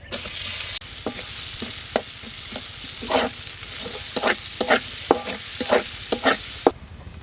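Chopped onion fries in oil with bay leaves and nigella seeds, giving a steady close sizzle broken by repeated sharp spatula scrapes and taps against the pan, with no talking.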